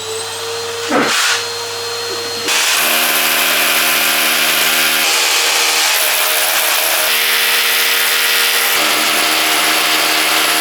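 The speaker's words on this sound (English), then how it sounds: "I'm going to use my SDS with 7mm bit and then some plugs." A vacuum cleaner drones continuously while an SDS drill with a 7mm bit whines and grinds in bursts, its pitch shifting as it bores into the wall.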